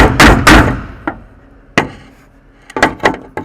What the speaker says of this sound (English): The hammer, ball peen end, and get another one, smack it.